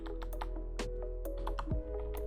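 Quick, light keystrokes clatter on a computer keyboard while code is entered for a Unity C# game tutorial, a close, irregular run of clicks over a steady low hum.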